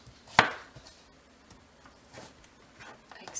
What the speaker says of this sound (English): I feel this knife is a little bit overkill for this